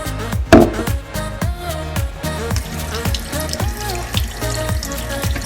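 Beef liver is rinsed under a steadily running kitchen tap, with close, continuous splashing water and a few sharp clatters and knocks against the sink throughout.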